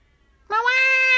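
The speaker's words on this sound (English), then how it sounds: "Now my cat's distracting me." A house cat gives one clear, close, sustained meow that starts abruptly after a moment of quiet and holds steady to the end.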